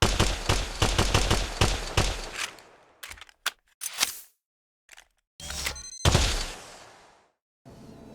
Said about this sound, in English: For the pistol, I have it broken down into 3 layers: a primary fire layer, a character layer, and a mechanical layer.